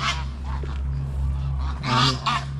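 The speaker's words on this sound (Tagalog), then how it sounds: "Saan kaya yung gansa?" A goose honks in several loud, nasal bursts close by, over a steady low engine-like hum at a Philippine backyard farm.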